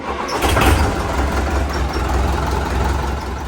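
A 2018 Sonalika tractor engine, freshly rebuilt with its tappets set, runs steadily close by, a low rumbling idle with a slightly louder surge near the start before settling into an even, continuous drone.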